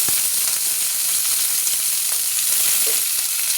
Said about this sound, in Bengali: বেগুন সিম আলু একটু ভাজা ভাজা করে নেব